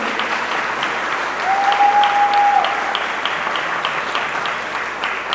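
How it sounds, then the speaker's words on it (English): An audience at a high school commencement applauds the school board, a steady wash of clapping from a large crowd in a hall, swelling briefly in the middle and then holding. "You can give them a round of applause."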